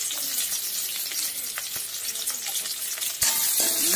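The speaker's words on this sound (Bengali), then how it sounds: "তেল গরম হয়ে গেলো, তারপরে পেঁয়াজ দিয়ে দিলাম" Onions frying in hot oil in a pan, a dense continuous sizzle with crackles and occasional stirring scrapes, close and steady, a louder hiss surging near the end.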